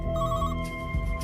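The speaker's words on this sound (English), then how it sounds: "But soon another call comes in from the same phone." Telephone ringing with an incoming emergency call, a short electronic ringtone burst with bright tonal pulses, clear and close with no talking.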